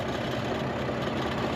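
A farm tractor fitted with big tyres runs with a steady, even engine drone, loud and close with no pauses or talk.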